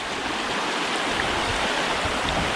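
A river flows around a line of stepping stones, a steady, close rushing and gurgling of water that holds at an even level throughout, with no talking.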